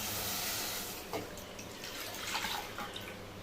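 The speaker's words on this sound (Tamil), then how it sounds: "இப்போ வந்து சட்டியில் வந்து நான் பால் ஊற்றுறேன்" Milk pours into a cooking pan for homemade kulfi ice cream, a steady close trickling splash of liquid that fades slightly partway through.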